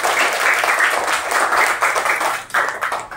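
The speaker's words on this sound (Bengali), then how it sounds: "সুন্দর বলেছে, তাকে একটা জোরে হাততালি।" A group of third-grade children in a classroom claps together in a burst of rapid, close applause that pulses unevenly, briefly dips, then surges again before fading.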